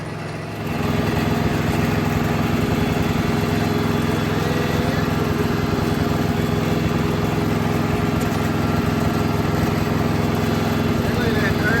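A Yanmar 1500 4WD compact tractor engine runs steadily at close range, a continuous loud diesel drone with a fast thrumming pulse that starts up and holds evenly, with someone talking over it.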